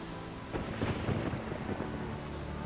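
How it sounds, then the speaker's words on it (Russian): Thunder rumbles and cracks over steady heavy rain during a thunderstorm in The Witcher 3, loud and continuous with rolling peaks and no voices. "Надо что-то сделать с этой грозой, а то с такими волнами ни на лов, ни в поход не выйдешь."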